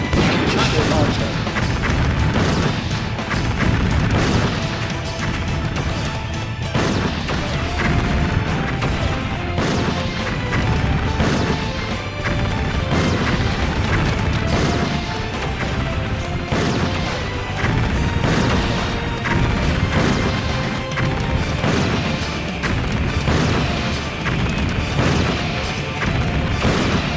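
Rocket launcher blasts in Metal Slug 3D, with loud, dense, continuous crashing explosions and impacts layered over busy game music and effects for the whole stretch.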